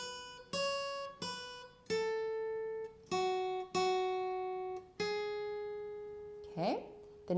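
An electric guitar picks a slow single-note melody, about eight distinct notes ringing out one after another, the last one bent upward.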